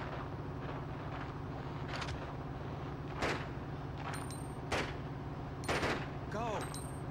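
Faint, scattered gunshots from the survival-horror game Resident Evil Outbreak on PS2, several sharp isolated reports spaced over steady background game noise.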